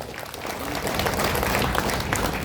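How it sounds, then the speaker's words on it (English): Applause from an audience at a political party gathering after a performance by young girls, a steady dense clapping that holds for the whole stretch at moderate loudness. "Let us give them another round of applause."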